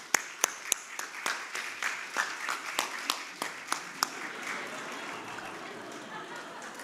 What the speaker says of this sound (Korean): 우리 박수로 그분 환영하도록 하겠습니다